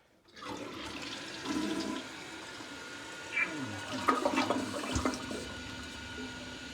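A toilet flushes and its tank refills after a Fluidmaster fill valve kit install, a loud rushing gush followed by steady running water, with a voice speaking briefly over it.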